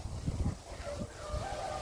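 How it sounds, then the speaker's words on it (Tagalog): A rooster crows in the distance on a farm, a thin call rising over a low rumbling background with soft thumps near the start. "Kaya yan pala ang naririnig nating tilaok ng mga manok."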